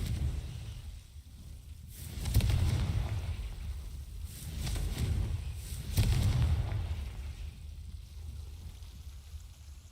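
Confringo blasting spell in Hogwarts Legacy, a few deep booming explosions about two seconds apart, each with a rumbling tail, heard alone without talk.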